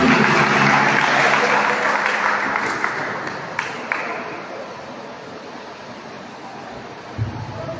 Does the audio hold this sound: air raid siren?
no